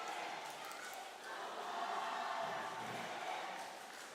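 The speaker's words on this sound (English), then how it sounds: "Subansri fans cheering and egging on their team for that final blitz" Subansri United supporters cheering and egging on their team at a stadium football match in the Arunachal League, a faint distant crowd roar that swells gently and then eases.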